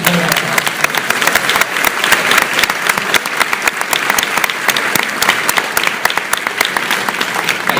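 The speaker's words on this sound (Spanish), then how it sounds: "denle el aplauso al Señor" A church congregation applauds during a Spanish-language sermon, producing a steady, dense wash of clapping that stays loud and full for the whole stretch with no pauses.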